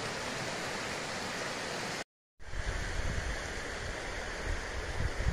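A creek flows through a rocky gorge with a steady, loud broadband rush of water that continues without pause, apart from a brief moment of silence partway through.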